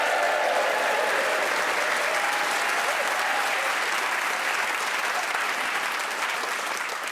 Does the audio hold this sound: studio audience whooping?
yes